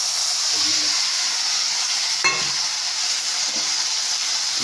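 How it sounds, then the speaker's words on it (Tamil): Ginger frying in a pan for a kohlrabi dish, a loud steady hiss and sizzle close up, with a brief stirring clatter midway. "இஞ்சி கொஞ்சமாக வாசனைக்காக போட்டுட்டு இதை நல்லா ஃப்ரை பண்ணுறேன்"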